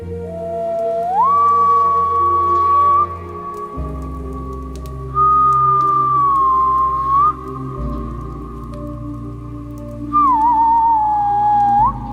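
Swedish long-distance wild whistling call, three sustained high whistled tones with gliding pitch bends, loud and close, with a steady low rumble of wind or rain beneath.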